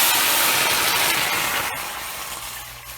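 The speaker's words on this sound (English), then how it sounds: "Look at that steam." Water poured into a hot pot while cooking dal rice hisses and steams loudly, a broad sizzling rush that slowly fades.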